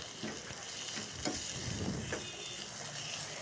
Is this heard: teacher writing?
no